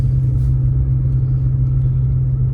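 A manual-transmission car pulls away from a standstill, its engine giving a steady, loud low rumble that holds even throughout without a clear rev rise.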